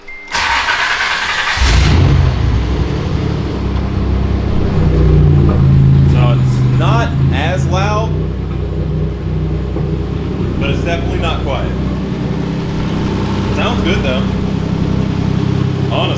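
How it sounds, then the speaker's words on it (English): A 1986 Nissan 300ZX engine with a new custom exhaust, mid-pipe and catalytic converter cranks and catches, then idles in a steady, fairly loud rumble while people talk intermittently over it. "Let's go ahead and start the car and see how much quieter it is."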